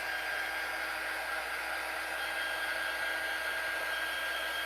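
A hair dryer blows steadily and loudly at close range, drying a Dollar Tree craft turntable, its even rushing hum unbroken and alone.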